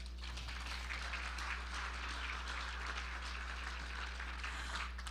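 Faint, steady applause from an audience greeting newly honored officers at an inaugural night ceremony, a continuous wash of distant clapping over a low hum, with no voices.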